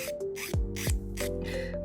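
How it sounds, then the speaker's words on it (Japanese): A nail file rasps against the side of a fingernail in short, close strokes, each brief scrape separated by pauses, while a soft steady hum runs underneath. "このサイドの部分特に薄くしておくと楽だと思うので重点的に削ります。"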